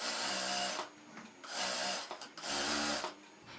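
A sewing machine stitches around the sleeve lining of a ruffled pantacourt jumpsuit in three short, close bursts of motor whir separated by brief pauses, with no talking.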